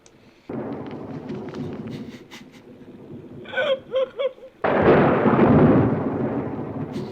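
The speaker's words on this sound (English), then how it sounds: "the lightning says something to the thunder, and the thunder answers back" A thunderstorm scene from the 1965 film The Sound of Music, with deep rolling thunder: a long low rumble, a cluster of sharp cracks, then a loud sustained roar near the end, with no talk over it.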